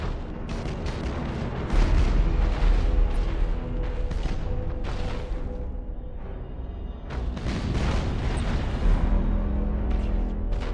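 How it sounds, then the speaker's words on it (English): Spaceship weapons fire in a space battle in the Battlefleet Gothic Armada strategy video game, rolling booms and heavy blasts overlapping in loud waves, with explosions swelling and fading across the stretch. "Fire all weapons!"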